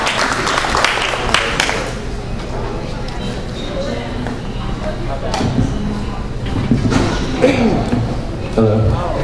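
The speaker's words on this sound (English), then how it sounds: "Everybody give him a round of applause." Audience applause at a community open mic poetry night, a dense patter of clapping hands filling the room at steady loudness, with crowd voices and chatter mixed in throughout.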